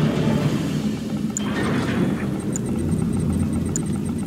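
A bomber aircraft engine in the video game Command & Conquer 3 drones low and steady throughout, with faint high beeps ticking at intervals over it.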